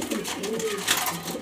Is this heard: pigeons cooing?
yes